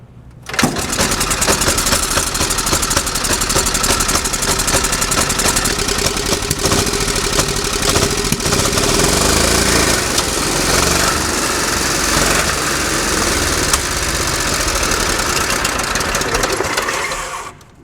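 An old car engine cranks over and runs after a flooded carburetor, a loud, rough, steady running note with knocking clatter that holds for most of the stretch before cutting out near the end.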